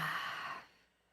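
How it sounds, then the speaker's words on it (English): A single deep cleansing exhale at the start of a yoga practice, a soft breathy rush that fades out after about half a second, close and quiet. "Let's take a deep cleansing breath."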